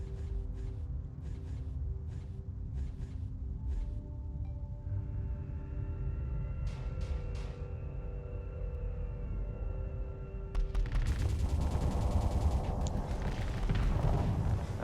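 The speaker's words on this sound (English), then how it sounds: "That cannon can put out a lot of fire." Cannon fire from ships in space combat in the game Starsector, with repeated bursts over a steady engine hum and tones, growing louder and denser toward the end.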